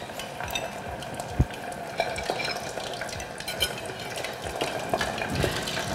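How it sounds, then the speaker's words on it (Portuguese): Meat frying in hot oil in a fondue pot, skewered on a fondue fork: a steady, continuous sizzle with small bubbling crackles and a few faint clinks of metal utensils. "você já espeta a outra, já vai deixando fritando ali"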